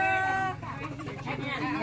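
Chickens handed out by an agriculture department cluck in short nearby bursts, mixed with a voice talking in the background.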